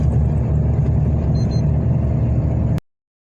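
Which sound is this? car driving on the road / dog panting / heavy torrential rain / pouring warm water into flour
car driving on the road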